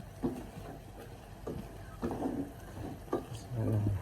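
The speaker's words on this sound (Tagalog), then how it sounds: "Halo muna natin." Chicken tinola with papaya is stirred in a cooking pot. Several quiet scraping and clinking strokes come at irregular intervals, close and fairly soft, over a low simmering background.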